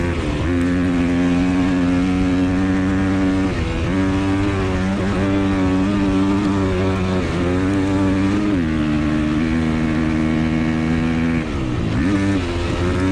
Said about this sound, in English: the bike will just be bouncing off the rev limiter